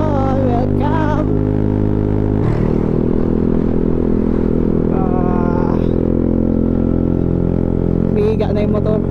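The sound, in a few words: Yamaha Aerox scooter riding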